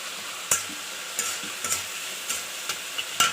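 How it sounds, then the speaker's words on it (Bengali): Prawns frying with salt and turmeric in a pan, a steady soft sizzle broken by several sharp scraping stirs at irregular intervals, close and fairly quiet with no voices. "চিংড়ি মাছটা ভেজে নিচ্ছি নুন হলুদ দিয়ে"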